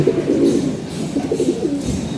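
Low, soft pigeon cooing rolls on in repeated murmuring phrases, close and steady, with faint background hiss.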